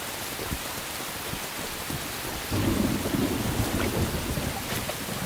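Steady rain falls across the Maasai Mara savannah while a low rumble of thunder swells midway and lingers, a broad, continuous wash of sound with no voices.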